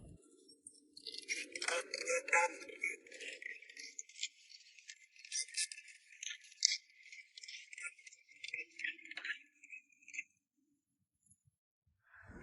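A TV casing taken apart for inspection on a set that fails to start up, close, quiet rattling, clicking and plastic handling in uneven bursts, ending in silence.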